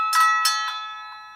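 Danish cowbells once hung in a childhood home, rung as a dinner call: several bright metallic clangs close by, each ringing out and decaying, with no voices.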